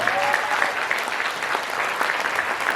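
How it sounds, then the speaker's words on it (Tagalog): A church congregation applauds steadily for a few seconds, dense even clapping with no pauses and no voices standing out. "Ano na yung palakpak na yun?"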